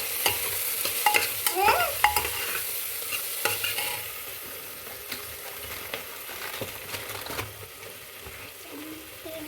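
Masala rice spices fry with a sizzle in a pressure cooker while a spoon stirs and scrapes in uneven strokes, close up, with a few clinks against the pot and no speech.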